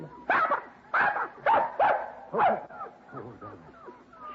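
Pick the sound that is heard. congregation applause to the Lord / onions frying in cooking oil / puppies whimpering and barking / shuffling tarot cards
puppies whimpering and barking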